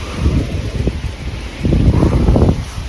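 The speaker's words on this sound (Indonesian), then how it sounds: "Anginnya juga sangat kencang," Strong, cold wind on Mt. Tanigawa buffets the microphone in two low, rumbling gusts, the second louder and longer, with no voices heard.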